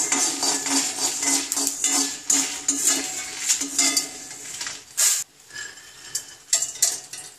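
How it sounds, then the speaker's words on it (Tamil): Dried turkey berries roasting in a pan for vathakulambu spice powder, heard as steady light rattling and clinking of the berries and a spoon against the pan, with brief scraping bursts and no talk. "அடுத்தது 10 சுண்டை வத்தலை நல்லா வறுத்துக்கலாம்."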